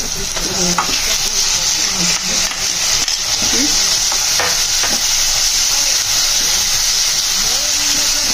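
Tomatoes frying with browned onions in oil for a dry chicken dish, a loud steady hiss of sizzling with scattered scraping stirs, and a voice faintly speaking beneath it.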